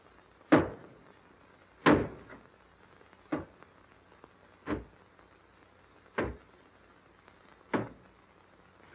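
Someone breaks down a door in a 1938 film, with six heavy thuds landing in a slow, uneven rhythm. The blows come loud and close against an otherwise quiet room.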